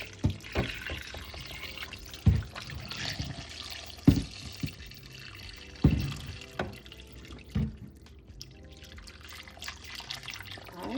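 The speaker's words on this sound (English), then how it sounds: "we're gonna add some hot water." Hot water poured over meat in a pot for Jamaican stew peas, a running, splashing liquid sound with several sharp clunks and knocks close by, no talking.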